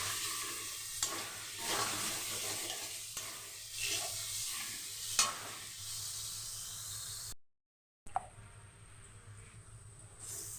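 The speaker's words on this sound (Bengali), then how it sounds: "পেঁয়াজটা আমার ভাজা হয়ে গেছে।" Onion fried with garlic and green chili paste for a masala chicken kosa, stirred steadily in a hot pan as a continuous sizzle with scraping strokes and clinks, broken by a short silence and then a quieter hiss.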